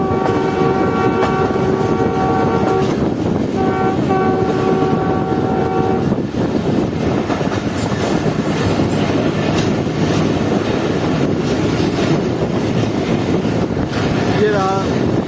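Jaffer Express passenger train running on a single line near Korang Bridge, a steady loud rumble of wheels and carriages throughout, with tonal horn-like bands early on and brief clatter near the end.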